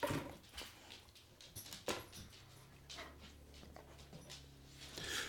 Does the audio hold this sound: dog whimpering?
yes